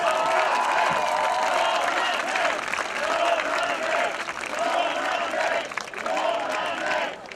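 A stadium crowd at an American football game between Primacol Lowlanders Białystok and Warsaw Sharks applauds a touchdown with sustained, dense clapping and cheering. A public-address voice calls over it.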